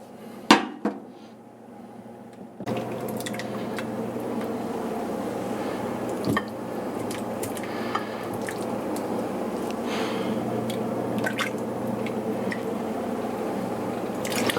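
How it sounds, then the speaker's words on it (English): Salmon soup broth, Finnish style, is ladled into a bowl, with a few sharp clinks of ladle on dish, then soft continuous pouring and splashing, close and moderately loud, with no talking. "Let's get some of that delicious broth in there."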